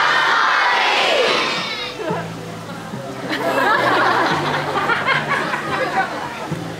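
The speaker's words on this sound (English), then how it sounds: "I need you all as loud as you can to call that jump, Marley." A zoo crowd at a seal show at Taronga Zoo, children among them, shouts together in a loud burst, then scattered cheering and chatter continue from the audience.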